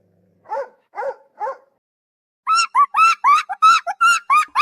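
A dog barks three times, evenly spaced, then after a pause a rapid run of higher, sharper yips and barks follows in quick succession, loud and close with no voices.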